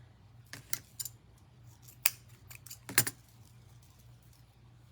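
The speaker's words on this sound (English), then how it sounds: "you just fold them together and you cut on the folded edge" Scissors snipping through folded ribbon or fabric while making a bow for a door hanger, several quiet crisp cuts in an irregular rhythm against a faint low hum, close and isolated.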